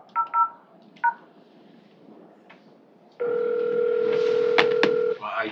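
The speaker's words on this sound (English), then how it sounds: "Click the number to call it, please." Telephone keypad DTMF beeps and a dial tone during an open county Board of Supervisors meeting: a few quick dialing beeps, then a steady dial tone with two more beeps pressed over it. The tones are moderately loud and no one speaks.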